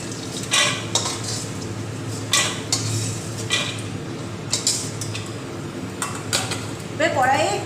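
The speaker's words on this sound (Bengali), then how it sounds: "আমি বড়িগুলোকে এবার কড়াই থেকে তুলে নিচ্ছি।" A metal spoon clinks and scrapes against a wok in short, irregular knocks while fried lentil dumplings are lifted out of hot oil, with a low kitchen hum beneath.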